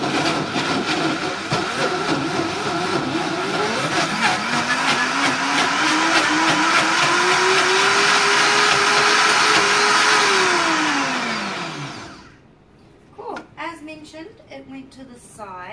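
An ice cream maker running its sorbet function on frozen bananas gives a loud, steady motorized whir that rises in pitch and holds for about twelve seconds before shutting off, followed by faint clinks and handling.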